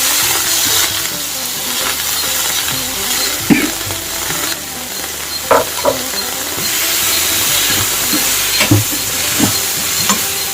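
Eggplant goes into a hot frying pan of cooking tomatoes with a loud, steady sizzle and hiss, broken by a few sharp clinks and scrapes of a spoon stirring against the pan.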